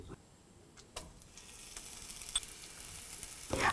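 Crushed small shallots sautéing in hot coconut oil give a steady, close sizzle with faint crackles and a few brief ticks, rising a little louder near the end.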